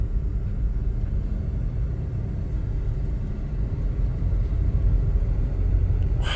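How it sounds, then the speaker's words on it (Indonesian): A Toyota Prado with a 2700 cc engine, fitted with a double black core, on a test drive gives a constant low in-cabin rumble and engine drone, steady and moderately loud with no talk. "kita lakukan test drive pada Prado 2700 cc yang dipasang double black core"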